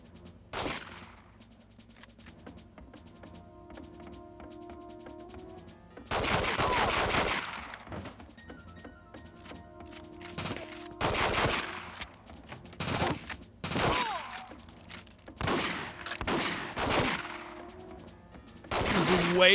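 Gunfire in the N64 game Mission Impossible comes in repeated short bursts and single shots over a quiet background hum, with intermittent speech-like sounds between the volleys.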